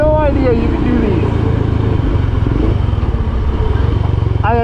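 A Royal Enfield Himalayan dirt bike fitted with an Italian Zarg exhaust runs with a loud, close, throaty engine rumble that holds steady and rises briefly at the start and end, with someone talking over it.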